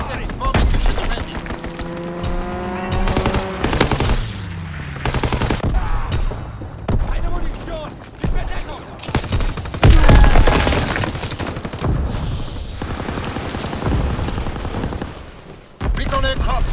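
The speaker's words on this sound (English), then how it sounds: "Fighter pilot inbound, strafing the target" Fighter plane strafing runs in Call of Duty: WWII, loud rapid machine-gun bursts and impacts with a rising engine whine, repeated across the clip amid chaotic battlefield noise.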